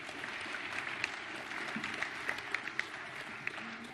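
Audience applause at a student creativity project presentation forum, a steady wash of many hands clapping with scattered sharper claps standing out, moderately loud and continuous.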